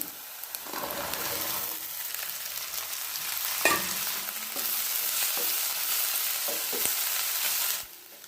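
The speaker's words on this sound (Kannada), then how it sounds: "2 ರಿಂದ 3 ನಿಮಿಷ ಚೆನ್ನಾಗಿ ಎಣ್ಣೆಯಲ್ಲಿ ಫ್ರೈ ಮಾಡಬೇಕು" Chopped radish pods fry in hot oil with onions in a pan, a loud steady sizzle broken by scraping stirs of a spatula throughout, stopping abruptly near the end.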